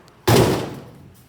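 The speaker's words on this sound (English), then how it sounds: "you hear the window rattle, but not the door." An old, rusty, twisted Ford F-1 pickup door slams shut once with a sharp close-up thud, and the window glass rattles briefly as the sound fades.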